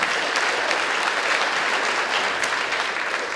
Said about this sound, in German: auch er kriegt einen Applaus